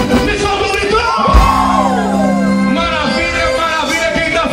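A carnival crowd yells and whoops together in a loud burst, with a voice shouting over a noisy, echoing gathering.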